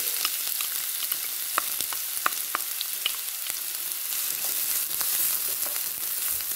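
Onions fry in hot oil in a pan, a bright, dense sizzle with frequent crisp crackles and pops that stays steady throughout.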